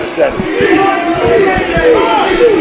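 Wrestling crowd at a match between Johnny Valiant and George "The Animal" Steel, a loud, busy roar of cheering and shouting voices throughout.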